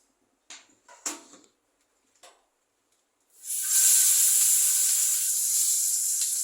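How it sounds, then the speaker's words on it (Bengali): Small fish dropped into hot oil: a few faint clicks and taps, then a sudden loud burst of hissing, spitting fry that settles into a steady, bright sizzle, close by. "আগে মাছটা ভেজে নিচ্ছি।"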